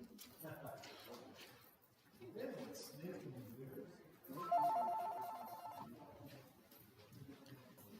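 A telephone rings with an incoming call, a bright electronic trill starting midway and lasting about a second and a half, heard under people talking and chuckling.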